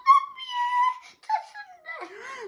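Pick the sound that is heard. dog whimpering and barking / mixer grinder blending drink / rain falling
dog whimpering and barking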